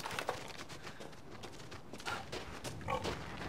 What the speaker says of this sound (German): Ach so, es war ein Wildschwein.